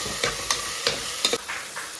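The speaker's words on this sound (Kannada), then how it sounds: "ಚೆನ್ನಾಗಿ ಫ್ರೈ ಮಾಡಬೇಕು ಹಸಿ ಸ್ಮೆಲ್ಲೆಲ್ಲ ಹೋಗಬೇಕು" A rice dish with powdered spices frying in a pan and being stirred, steady close sizzle with regular scraping strokes of the spoon about every quarter second, no voices.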